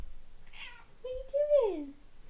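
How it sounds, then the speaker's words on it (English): A Bengal cat meows once, close and clear, a rising then falling cry after a short soft chirp, with a person talking faintly around it. "If you don't know, Shadow's my Bengal."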